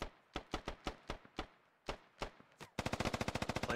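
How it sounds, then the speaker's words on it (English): Gunfire in the military shooter game Squad: a few spaced single shots, loud and close, then a rapid sustained burst of automatic fire at the end, with no talk over it. "Plenty of shots going out."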